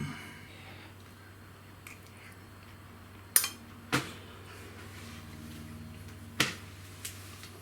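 Cutlery clinks and scrapes against a dish while a slab of cheesy bacon mashed potato bake is cut and served, a few sharp taps and soft squishes over a quiet hum, close by.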